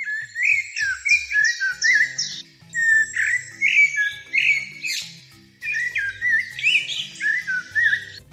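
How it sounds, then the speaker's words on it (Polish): A blackbird sings fluting, warbling phrases in short bursts with brief pauses between them, clear and fairly close, with no other sounds. "Kosy to niewielkie 30-centymetrowe czarne ptaki z charakterystycznym żółtym dziobem."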